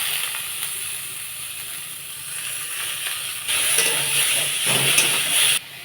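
Boiled fish, cooked with salt and turmeric and drained, drops into a hot pan and sets off a steady hissing sizzle that swells louder partway through before cutting off near the end.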